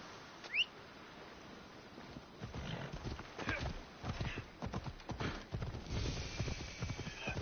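A horse in Assassin's Creed Odyssey clops along with rhythmic hoofbeats and a brief snort or whinny, while a person talks over it.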